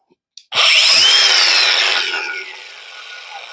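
A power tool cuts into wood, starting abruptly with a loud, whining high-pitched buzz that holds steady for a couple of seconds, then fades as it winds down.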